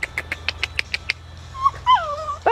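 Puppies give a quick series of short high yips, followed by thin drawn-out whimpers, close and fairly loud.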